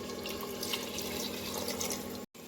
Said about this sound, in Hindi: अब हम इसमें ग्रेवी के लिए पानी ऐड करेंगे।